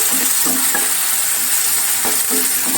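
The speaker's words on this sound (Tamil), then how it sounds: "இப்போ இந்த வெங்காயத்தையும் அதில் போடலாம். ஸோ இது கொஞ்சம் லைட்டாக வதங்கணும்." Garlic and onion sauté in a pan for broccoli soup, giving a loud, constant sizzle with a few soft stirring scrapes and clinks on top.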